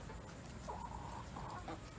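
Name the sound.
chickens clucking while eating watermelon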